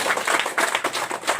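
An audience at an IMC franchise opening ceremony claps loudly and continuously, a dense close burst of many hands that fills the whole moment.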